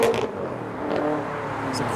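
A modified car accelerates hard away from a car meet, its engine note rising and holding briefly, close and loud, with a voice talking over it.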